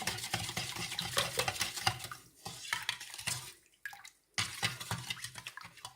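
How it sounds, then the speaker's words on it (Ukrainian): Salt being stirred into cold water in a container to make brine for fermented tomatoes: a steady, close scraping and swishing with light clinks. It pauses briefly midway, then resumes. "Суль нам треба розмішати, аби вона файно розійшла у воді."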